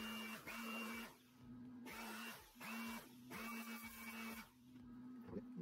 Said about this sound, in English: hold the fan like this so it won't spin as you blow air into it